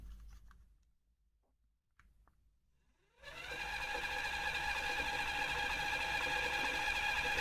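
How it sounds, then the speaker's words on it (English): A metal lathe set up to cut a pinion starts after a few quiet seconds, its motor whine rising quickly in pitch and then holding a steady, fairly loud hum. "So let's get the lathe turning."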